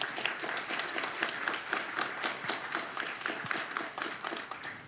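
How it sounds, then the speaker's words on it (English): A room full of people at a community and business awards event clapping steadily for several seconds, a warm, even patter of applause with no voices over it. "So a round of applause for Kim, please."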